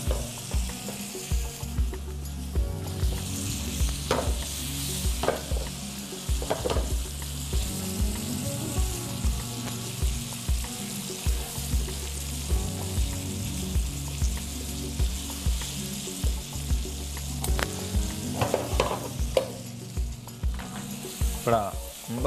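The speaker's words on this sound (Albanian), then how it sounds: "Panceta nuk ka shumë nevojë për skuqje të theksuar, por thjesht sa për të kavërdisur" Pancetta frying lightly in a pan, a continuous close sizzle broken by intermittent scraping and stirring knocks, moderately loud, with no talking.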